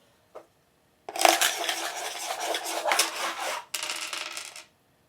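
Light dice with rounded corners tumbling onto a hard surface, a short rattle followed by a longer run of clattering and bouncing as they knock into one another, then a second brief clatter.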